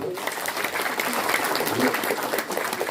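Applause from an audience at a Hindu community gathering in Yogyakarta, a steady dense patter of clapping held for a few seconds, mixed with a voice speaking over it.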